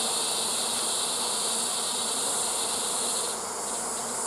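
Dense, loud buzzing of honeybees in an open hive with drones above the excluder, a continuous close swarm drone filling the whole stretch with no talking.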